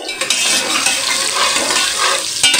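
Onion frying in a pot for plain khichdi, a loud close sizzle with stirring and scraping against the metal pot, continuous throughout with a brief clatter near the end.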